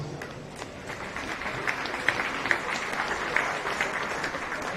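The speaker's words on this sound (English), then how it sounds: "Let's give our feeder exhibitors a big round of applause." A crowd claps for the feeder calf exhibitors at the O'Brien County Fair beef show, a fairly soft, steady patter of applause with a few sharper claps standing out.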